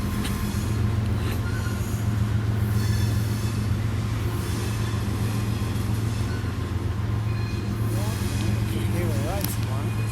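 A CSX coal train rolls past near Grafton, West Virginia, its steady loud rumble and clatter of wagons continuous throughout, with wheel squeal creeping in toward the end and people talking over it.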